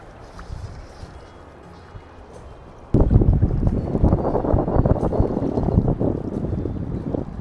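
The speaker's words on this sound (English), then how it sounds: "the wind is such a detriment it's fucking ridiculous" Strong wind buffets the microphone on a boat during fishing, a steady broadband roar that jumps sharply louder partway through and stays loud, with no talk.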